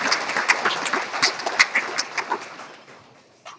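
A banquet crowd at a riding association's awards dinner claps for its competitors and riders, a lively burst of many hands with a few sharp accents that thins out and fades to near quiet toward the end.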